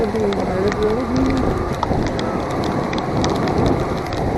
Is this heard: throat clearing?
no